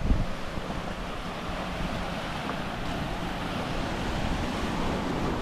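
Steady surf of sea waves breaking against shoreline rocks, a broad, constant wash mixed with strong wind rumble on the microphone, with no talking.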